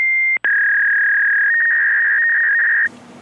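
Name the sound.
podcast call-in sound effect, electronic chirp tone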